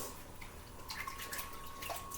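A six-foot dirty scarf being hand washed in cold water, with soft splashes and drips over a steady watery background, a cluster of brighter sloshes in the second half.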